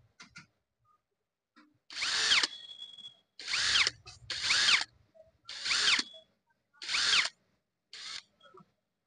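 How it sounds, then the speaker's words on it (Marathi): A power drill spinning off nuts from an air cooler motor in several separate bursts of loud whirring with brief pauses between them, close up and with no voices. "अशा प्रकारे आपल्याला नट काढून घ्यायचे आहेत."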